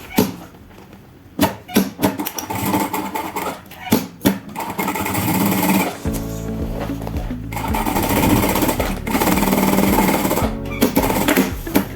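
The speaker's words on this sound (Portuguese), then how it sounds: "Vamos passar uma costurinha com o pé de calcadora." A sewing machine with its presser foot down runs in short bursts stitching a seam, a rapid mechanical chatter that stops and starts, then settles into a longer continuous run.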